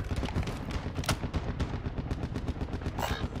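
Rapid, continuous Call of Duty video game gunfire crackling densely, with a few sharper louder shots standing out over a constant booming rumble, like an intense firefight at close range.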